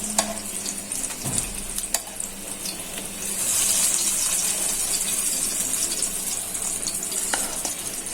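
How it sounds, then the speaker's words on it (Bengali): Green chilies frying in a pan of hot oil for a Bengali village-style fried dish, a steady wet sizzle with crackling pops that swells louder midway and carries on alone without talk. "কাঁচামরিচ ভেজে নিব"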